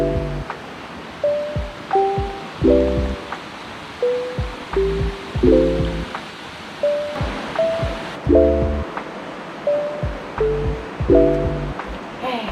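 Water rushes down a natural rock waterfall slide in Nong Prue, Kanchanaburi, Thailand, as a steady broadband wash. A repeating melodic tune plays loudly over it for the whole stretch.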